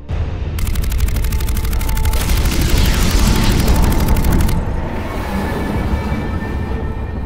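Mass Effect 3 weapon fire, a loud, rapid rattling burst of repeated shots over a booming explosion, followed by a lingering rumble as the blast fades.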